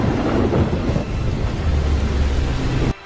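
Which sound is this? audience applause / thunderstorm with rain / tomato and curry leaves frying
thunderstorm with rain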